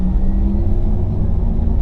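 A 2020 Porsche Taycan Turbo S electric car at full throttle on the Monticello Motor Club track, heard as a dense, close cabin rumble with faint tonal whine in one brief, continuous stretch, without talk.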